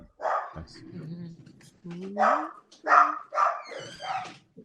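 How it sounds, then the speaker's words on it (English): Several dogs bark, yip and whimper in quick bursts close by, sounding like playful scuffling with growly yelps. "Sorry for my annoying dogs."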